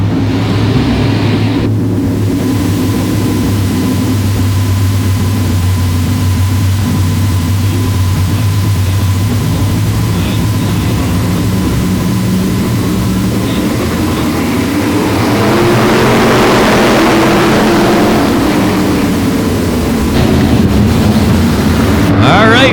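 OSCAAR modified race cars at Sauble Speedway settling into a lap off turn 4, a loud continuous engine roar with a rising and falling pitch as the field passes, and announcer talk over it.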